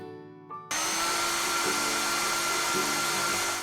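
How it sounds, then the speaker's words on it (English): A vacuum cleaner switches on abruptly with a loud, steady roaring whine that holds until the end, preceded by a brief quiet tonal passage. "It's a vacuum cleaner."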